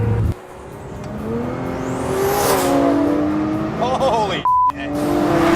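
A Nissan GT-R AMS Alpha 12 accelerates hard, its engine roaring loud and close with rising turbocharger whine and wastegate flutter between shifts, while a voice exclaims briefly over it.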